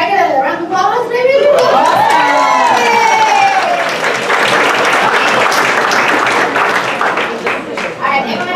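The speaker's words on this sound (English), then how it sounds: "Can I get a round of applause, maybe?" Conference audience breaks into loud applause and cheering, with whoops and high shouts rising over a thick, sustained bed of clapping and crowd noise that stays strong throughout.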